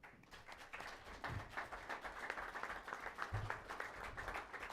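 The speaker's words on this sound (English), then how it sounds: "she deserves a good round of applause" Quiet, distant applause at a county board meeting, a scattered room of hands clapping in a loose, uneven patter with a few louder claps, and no speech over it.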